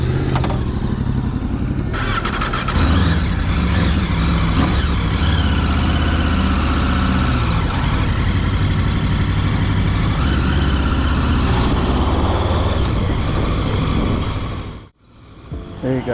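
An Aprilia motorcycle engine runs loud and close on its first ride, a steady, throaty drone with rising revs early on that holds high, then cuts off abruptly near the end.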